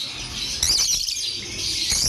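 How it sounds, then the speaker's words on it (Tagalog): Small caged birds for sale chirp and tweet in rapid high bursts, close and fairly loud over a steady background din. "Yan, gandang ibon."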